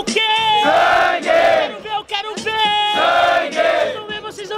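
A rap battle crowd at a student battle in Guarulhos chants a single word in unison back to the MC, loud repeated shouted bursts from many voices alternating with the MC's calls.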